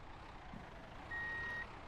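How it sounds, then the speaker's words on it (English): A truck's reversing beeper sounds in the Contract Ville video game: one steady electronic tone holds for about half a second over a low, constant engine rumble. "I'm going to go ahead and back the truck up to the door completely"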